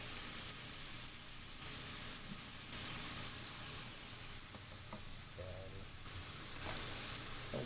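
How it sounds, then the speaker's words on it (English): Onions sauteing in a pan for a Cantonese-style dish, with a steady, dense sizzle and frying hiss throughout and a few faint clinks of stirring on top. "Now that we got this already sauteing on the pan, we're gonna proceed and bring on"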